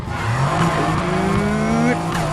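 During a burnout in Need for Speed Heat, a 2015 Mercedes-AMG GT's engine climbs in pitch through repeated revs while the tires squeal and scrub beneath it, all loud and close with no pause.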